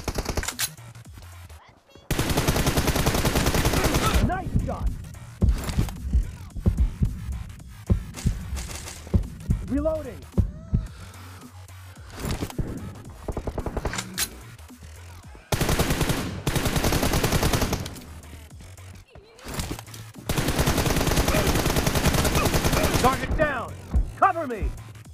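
Loud, sustained bursts of M416 rifle fire in a shooter video game, several seconds each, alternate with short gaps where someone talks and scattered single shots and impacts sound.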